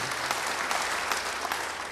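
A church congregation applauds during a sermon, dense even clapping from many hands sustained throughout at moderate loudness with no voices on top.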